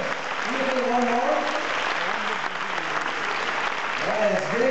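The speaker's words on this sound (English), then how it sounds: "Let's give a round of applause, a big, big round." An audience applauds a wind orchestra after a performance, broad continuous clapping filling the hall, with voices and cheers mixed into the applause.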